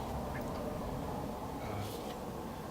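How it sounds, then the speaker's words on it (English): Ducks quacking outdoors, faint and somewhat distant calls rising briefly over a steady bed of broadband ambient noise. "As you can see, birds, they are everywhere."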